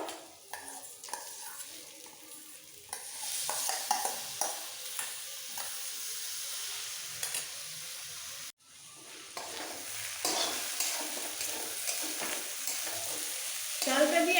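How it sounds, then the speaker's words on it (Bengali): Lentils sauté with spices before ghee-coated soaked Gobindobhog rice goes in, giving close stirring scrapes over a soft steady sizzle with no talk, broken by a short gap midway. "মশলার সাথে দু মিনিট ডালটাকে আগে একটু কষিয়ে নিয়ে এর মধ্যে দিয়ে দেবো ভেজানো গোবিন্দভোগের চালটা ঘি দিয়ে মাখানো"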